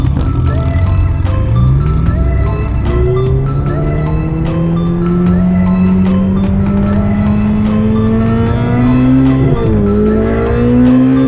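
A Ferrari 488 Pista V8 accelerates hard while driving, rising through the gears with loud, close engine pitch sweeps and shift breaks, plus sharp tire noise, with no talk.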